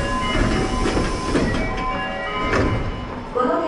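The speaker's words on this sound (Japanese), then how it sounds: "この電車は山本山方面名城線左回りです。" A Meijo Line subway train runs through a station area, a loud continuous rumble with rhythmic clatter of wheels and a brief squeal, heard from inside the carriage with no talk.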